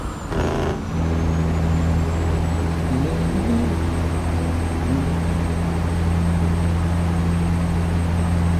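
A heavy truck in American Truck Simulator drones at steady cruise with a low, constant engine hum, and a brief hiss of air is heard at the start.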